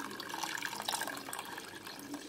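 Milk poured steadily into an egg caramel pudding mixture, a soft continuous liquid trickle heard up close and fairly quiet, with no voices.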